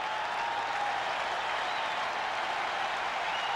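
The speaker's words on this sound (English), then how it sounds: "this crowd, which has been criticized in the past for being too quiet, has been electric from moment 1 tonight" A packed baseball stadium crowd roars and cheers during a 1992 World Series game between the Blue Jays and Braves, a steady, dense wall of applause and shouting that holds at full strength throughout.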